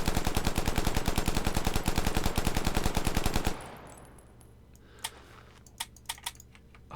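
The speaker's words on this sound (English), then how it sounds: "The M60 sounds really cool" M60 machine gun firing in the Vietnam-era shooter game Rising Storm 2: Vietnam, a rapid, evenly spaced burst of loud shots for about three and a half seconds that stops abruptly, leaving a few faint clicks and knocks.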